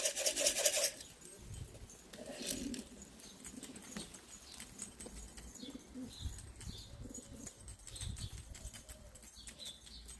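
Pigeons fly close by with quick bursts of wing flapping. The rustling, rasping flutters come in short irregular clusters over a quiet background.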